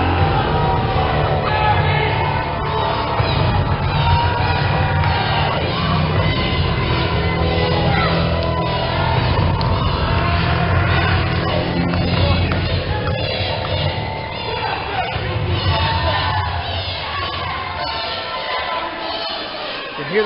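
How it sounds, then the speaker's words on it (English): A packed crowd at a DWA professional wrestling event roars and chants in steady rhythmic shouts, a dense wall of voices and cheering that stays loud for the whole stretch and dips slightly near the end. "You hear the crowd chanting PT, PT for Princeton Travis."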